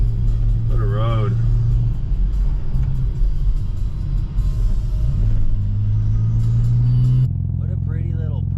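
An Audi S4 engine purrs steadily while driving on a scenic mountain road near Aspen, a continuous low rumble with a rise in pitch toward the end, and a person briefly speaks over it.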